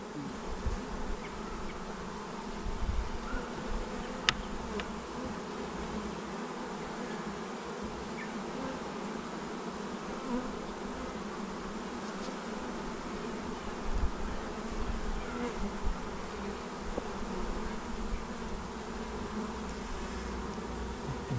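Honeybees from a well-populated hive buzzing during a spring hive inspection, a dense, continuous hum filling the air at moderate volume, with no talk over it.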